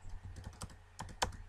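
Someone types on a computer keyboard in a short, uneven burst of soft close clicks, with a couple of sharper keystrokes near the end and no voice.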